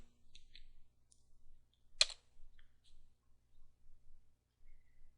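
Keystrokes on a computer keyboard as a command is typed, sparse quiet clicks with one sharper tap in the middle, heard over a faint low hum.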